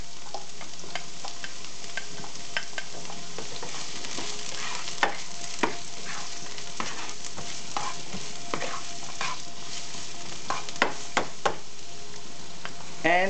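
Onion sizzles steadily in a hot pan while a utensil scrapes and taps as it is stirred for pasta a la carne, a continuous close frying hiss with scattered clinks; no speech.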